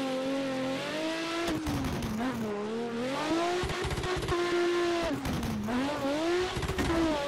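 Street car drifting on a touge track in Assetto Corsa, engine note repeatedly rising and dropping through revs with sharp gear-change clunks and tire squeal, steady and close with no voices.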